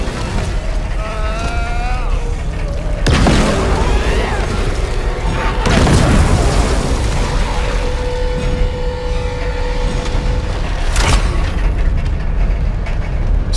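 A heavy weapon from Dead Space Remake fires in deep booming blasts, several sharp bursts spaced seconds apart over rumbling mechanical game ambience and creature sounds.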